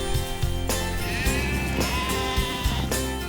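Sheep bleat on a rural Australian sheep station, with several wavering, overlapping calls close by over a steady background hum of the flock.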